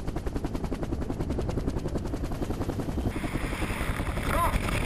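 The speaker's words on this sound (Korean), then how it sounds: "드디어 적당한 강화 지점에 멈춰선 헬기." Military helicopter holding a hover at high altitude before a Marine Corps high-altitude parachute jump, a steady rapid rotor chop with broad engine roar throughout, growing louder toward the end.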